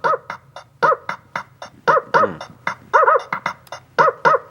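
Repeated dog barks, some doubled, come in a steady rhythm over a simple beat for a children's song about frogs, loud and close with no talking.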